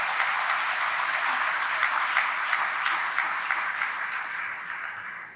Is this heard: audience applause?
yes